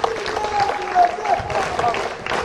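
An Independence Day gathering applauds a girl for a hoped-for all-India gold medal. The clapping is a moderate, fairly close wash, with a voice speaking over it.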